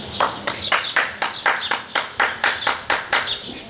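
Steady hand clapping, about four claps per second, crisp and close, with no voices.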